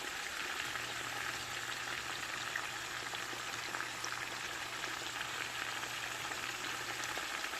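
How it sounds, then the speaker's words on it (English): Collard greens cook on high heat and are stirred in a pot, giving a soft, constant sizzle and crackle with a faint steady hum underneath. "And I'll let those greens cook now. Get nice and soft, and I'll go ahead and start stirring them."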